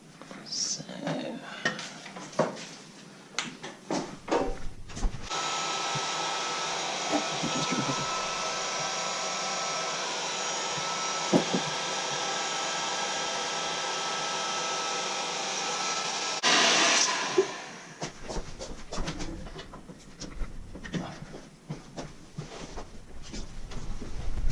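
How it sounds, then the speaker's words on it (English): A heat gun blows a steady, loud whooshing roar for about twelve seconds to dry a freshly thrown 10 lb clay bowl, framed by clattering handling noises and a voice before and after. "how other people judge how long to leave a heat gun on a pot"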